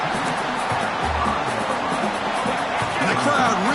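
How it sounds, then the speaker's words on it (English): Football stadium crowd at an Army game roaring steadily to back the defense at a first-and-goal stand near the goal line, a dense, continuous wash of noise with a commentator talking over it. "the crowd really making some noise now, trying to help out this defense to get this stop near the goal line"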